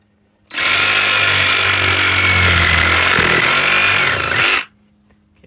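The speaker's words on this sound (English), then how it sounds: "We're going to get my Sawzall here. And we're going to cut it off right here." A reciprocating saw cuts through a large underground PVC main line pipe, a loud, steady, harsh buzzing rasp lasting about four seconds before it stops abruptly, close by and with no talk.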